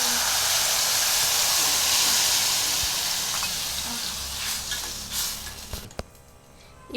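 Tamarind water poured into a hot pan for tamarind rice bursts into a loud, steamy hiss that slowly subsides into softer bubbling, with a few clinks near the end.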